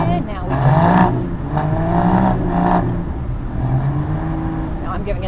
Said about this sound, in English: Now I'm giving it a little bit more throttle than Marcus